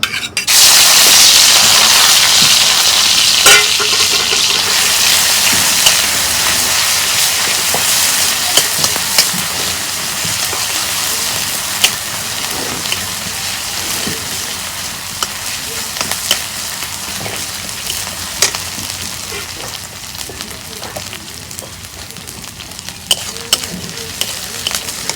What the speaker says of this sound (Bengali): তেল গরম হয়েছে, পেঁয়াজ দিয়ে দিব।